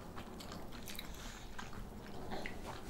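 Chewing on a shrimp-flavored dumpling with shrimp inside, eaten alongside fire noodles: close, soft biting and mashing sounds with faint crunches, repeated steadily for about three seconds without talk.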